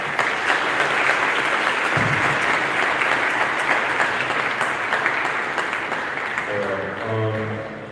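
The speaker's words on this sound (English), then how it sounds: "Hey, can we get a round of applause?" Crowd at a hackathon event giving a round of applause, a dense sustained burst of clapping that gradually thins near the end as a voice begins speaking.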